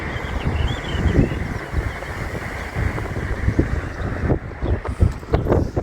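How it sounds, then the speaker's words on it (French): Strong gusting wind buffets the microphone outdoors near Sisteron above the Durance river, a constant rough roar that swells and dips throughout. "Alors, beaucoup de vent aujourd'hui."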